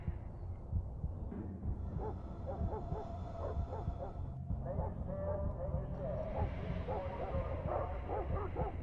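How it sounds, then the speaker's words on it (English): Dogs barking and yipping in Splinter Cell Blacklist, several short barks from fairly nearby over a low ambient hum, with someone talking over them. "Well, we got dogs around here."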